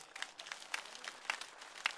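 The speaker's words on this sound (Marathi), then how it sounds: "आपण त्यांचं प्रचंड टाळ्या वाजून स्वागत करूया" A crowd at a Maharashtra political rally claps in brief, faint, scattered bursts that sound distant and thin, with no speech over it.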